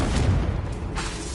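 A Confringo fire spell explodes in Hogwarts Legacy, a dense rumbling boom with a crackling burst, loud and close, filling the whole moment with no talk over it.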